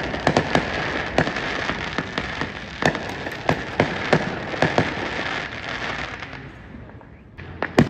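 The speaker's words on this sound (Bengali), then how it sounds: "বাড়ির চারিদিকে আতশবাজি ফাটানো হচ্ছে।" Independence Day fireworks bursting around a house in America, a run of sharp irregular cracks and pops over a continuous crackling hiss, fairly close and loud, no talk.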